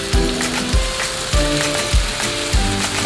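Dahi vada batter balls fry in hot white oil, a constant bubbling sizzle broken by about five regular dull knocks spaced roughly half a second apart, close and fairly loud.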